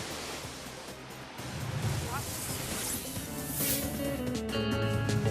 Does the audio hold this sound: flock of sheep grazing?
no